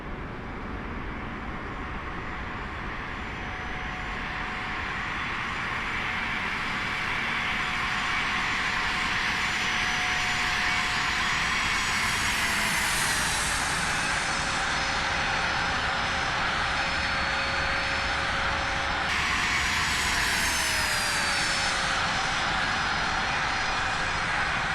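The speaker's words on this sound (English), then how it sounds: "we'll cut our engines and that'll be that there." A CRJ regional jet's engines spool down in Microsoft Flight Simulator 2024: a loud, steady turbine roar and whine that drops in pitch in two stages as each engine shuts down, continuous and close with no talking.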